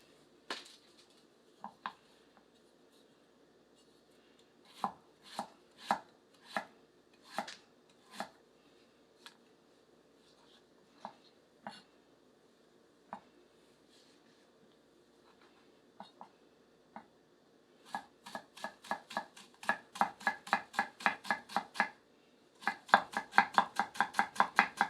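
A Daovua Pipeline nakiri knife chopping through food on a board during a cut test, sharp close knocks first spaced out, then coming in quick rapid bursts toward the end, with quiet between strokes.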